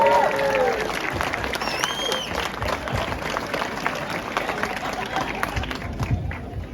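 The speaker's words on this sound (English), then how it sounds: "I want a huge round of applause and a roar for the Old School Musical crew" Steady applause from an outdoor car show crowd, dense clapping sustained evenly throughout with some cheering mixed in and a few voices talking over it.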